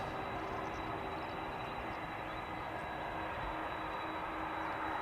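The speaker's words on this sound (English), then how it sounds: "Suparna Airlines going to Nanjing in Choina. Flight 87414. Boeing 747-400 freighter." A Suparna Airlines Boeing 747-400 freighter takes off at Schiphol's Polderbaan, heard as a steady, loud broadband jet roar with a faint high whine, continuous throughout without talk.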